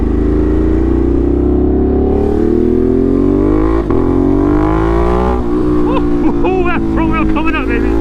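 A Ducati Monster motorcycle with an SC Project exhaust pulls away under a rider, its loud, close engine note climbing steadily in pitch as it accelerates, then a voice shouts excitedly over the engine near the end.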